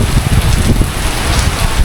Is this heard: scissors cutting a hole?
no